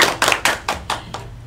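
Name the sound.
classroom clapping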